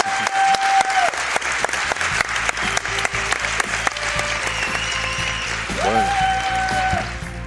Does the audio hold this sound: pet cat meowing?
no